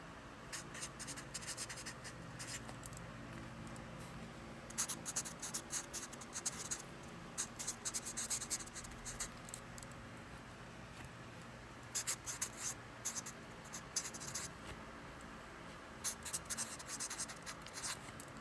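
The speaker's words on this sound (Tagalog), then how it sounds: "isulat nyo dito sa taas ang inyong tunay na pangalan" Pen or pencil scratches across paper in short bursts of handwriting while a name is written, close and quiet, with brief pauses between strokes and no talking.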